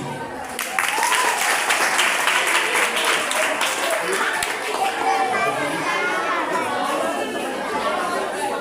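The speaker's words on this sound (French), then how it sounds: "Sur vos applaudissements." An audience at a school competition final applauds as a teacher comes up to receive a certificate, sustained clapping mixed with lively children's chatter and voices throughout.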